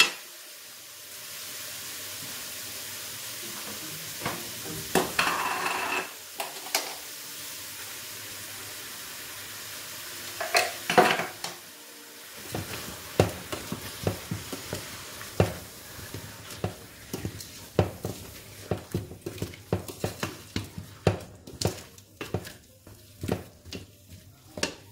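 Puréed tomato being stirred in a hot pan, a spoon scraping and sloshing through the sizzling sauce in uneven bursts, close and moderately loud with no talking.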